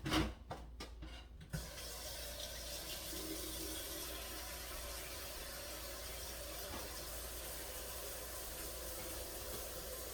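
A kitchen water tap runs steadily while broccoli is washed, a soft, even rush of water after a few brief clunks at the start, with no talk.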